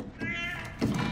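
A cat in the video game The Last of Us: Left Behind lets out a short, close meow, followed by a second louder cry in a quiet game scene.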